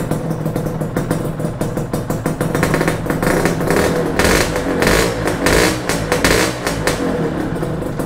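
A Honda Nova Dash 125 motorcycle fitted with a DBS exhaust idles close by, its rapid firing pulses steady and loud with a few light throttle blips, no talking over it.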